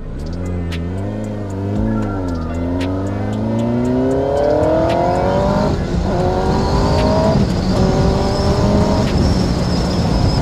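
A Kawasaki ZX-10R motorcycle engine roars while being ridden, climbing in pitch through rising revs with shifts between gears, loud and close, with wind rush building as speed increases.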